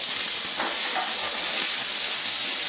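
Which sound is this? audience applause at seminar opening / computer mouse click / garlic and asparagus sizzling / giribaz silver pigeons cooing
garlic and asparagus sizzling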